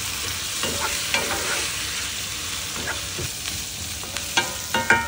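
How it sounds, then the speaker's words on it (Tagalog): Onions, garlic, ginger and beef sizzle steadily in a hot pan while being stirred, with scraping utensil clicks and small bursts of crackle over continuous frying hiss; no talking. "Saute onions, garlic, and ginger until softened at isunod ang beef"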